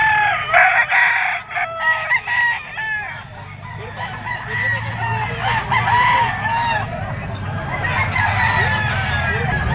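A two-year-old Gilmore Hatch green-legged rooster crows loudly and close, with other roosters crowing and clucking around it amid a busy poultry gathering with faint voices.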